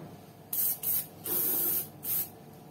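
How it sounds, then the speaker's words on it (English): Short bursts of a cheap 0.3 nozzle airbrush hiss on and off, four quick blasts of fine paint mist up close onto patent leather, with a quiet pause before the first. "I'm gonna use my cheap airbrush."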